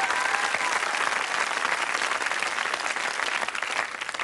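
A game show studio audience applauds in a dense, steady wash of clapping, loud and continuous throughout with no talk over it.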